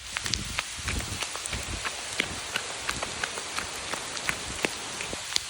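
Steady rain patters on a hard surface, with scattered drops tapping irregularly throughout. No voices.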